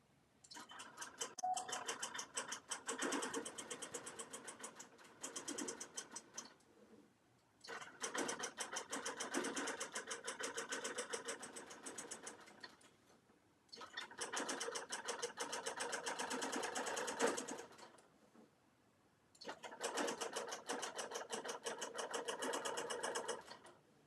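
Sewing machine stitching in the ditch on a quilt, running in four long, fast bursts separated by brief quiet gaps, close and clear with no voices.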